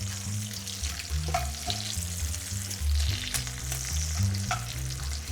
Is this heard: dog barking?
no